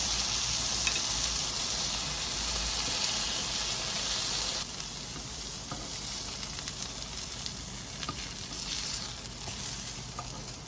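Eggplant slices grilling in a pan give a loud, steady sizzle and crackle that drops a little in level partway through, with no talk over it.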